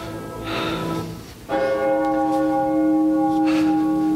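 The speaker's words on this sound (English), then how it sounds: "The bell invites me." A church bell tolls during a school stage production of Macbeth, one strong ringing strike with a long humming decay, loud and alone, with a faint breath before it.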